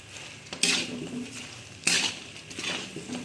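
A spoon stirring cluster beans, potatoes and chips together in a metal pot, giving a few scraping clinks and knocks against the pan with soft rustling in between, fairly quiet and close.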